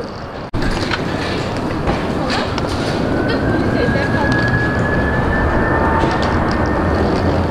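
Skytrain rail car rolling steadily along its track at a station, a loud continuous rumble with a rising whine, background voices faintly present throughout.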